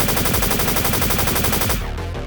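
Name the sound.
splinter cannon firing, gunfire sound effect in audio drama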